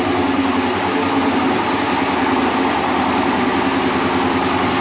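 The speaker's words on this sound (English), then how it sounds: "Like, yeah, it's idling a little high" A Saleen Foxbody Mustang engine with a misfire idles steadily and close by, a constant rumbling drone with an even, slightly fast pulse, idling a little high, and no other sounds.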